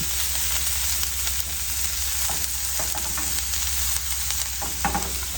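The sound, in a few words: meat frying in a pan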